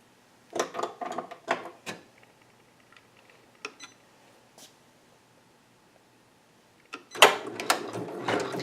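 A Janome MB4 embroidery machine runs in bursts of clattering, rattling stitching with quieter gaps and faint ticks between, then a louder stretch of rapid mechanical chatter near the end, with no talking.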